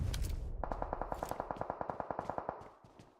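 Rapid automatic gunfire in PUBG Mobile during a PMSL EU Spring League esports match: a steady burst of about twenty evenly spaced shots, loud and close, with no talk.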